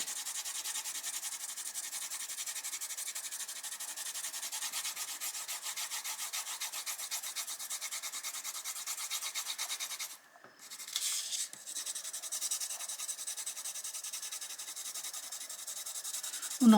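A pencil rubs graphite back and forth over the back of a sheet of paper, a close, steady scratchy scribbling with a brief pause partway through.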